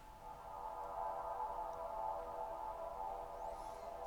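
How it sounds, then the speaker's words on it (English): A soft reverb and delay swell, resampled from the effect return tracks of a purple pad swells track, hangs as a steady, sustained wash that rises gently and holds at an even level throughout. "And what that sound is it's actually my reverb or delay that was over here."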